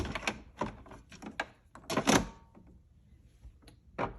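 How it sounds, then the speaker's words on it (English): Drip tray of a Miele coffee machine slid back into place, producing a series of close plastic clacks and knocks that cluster around the middle, then a quieter pause and one last tap. "Put the drip tray back in."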